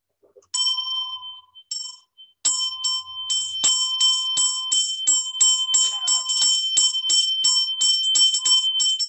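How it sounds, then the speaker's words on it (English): Bell rung repeatedly and close, bright metallic dings coming first in a few spaced strikes and then in a fast steady run of rings. "I come in with the bell."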